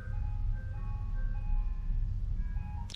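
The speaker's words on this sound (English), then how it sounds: "Can you guys hear the ice cream truck?" Ice cream truck passing outside, its melody chiming faintly and at a distance over a low rumbling background hum.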